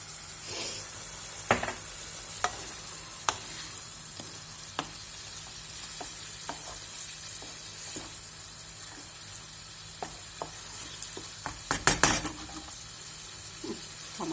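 Menemen cooking in a pan, seasoned with black pepper and chili flakes, with a steady low sizzle and scattered light spoon clicks and scrapes as it is gently stirred, growing busier near the end; no talking.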